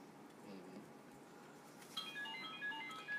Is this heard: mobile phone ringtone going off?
yes